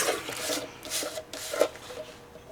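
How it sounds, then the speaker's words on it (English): Trimming the edge of a paper postcard, a few short dry rasping cuts in quick succession, close and quiet with no talking. "So I'm just going to trim off a little bit of this edge"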